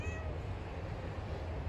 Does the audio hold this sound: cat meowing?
yes